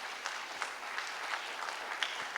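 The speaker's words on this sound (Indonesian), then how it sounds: "tepuk tangan dulu untuk kalian" Brief applause from a church congregation, a dense patter of clapping with small peaks, heard close and on its own for a couple of seconds.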